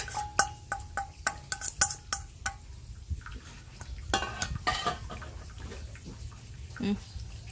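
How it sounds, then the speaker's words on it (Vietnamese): Fried shredded vegetarian tofu skin being mixed in a large bowl, opening with a quick run of metallic clinks and taps, then shifting into louder wet rustling and churning, close by. "Giờ bắt đầu mình sẽ trộn nó nha các bạn."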